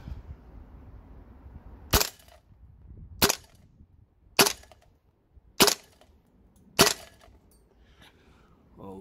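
A KWA Mega Arms CQB gas blowback airsoft rifle shooting 0.25 gram BBs on green gas: five sharp single cracks spaced about a second and a quarter apart, loud and close against a quiet outdoor background.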